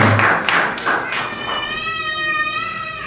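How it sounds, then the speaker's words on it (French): A church congregation applauding its technician, dense close clapping that fades out after about a second as a sustained musical tone rises and holds. "Acclamons pour notre technicien"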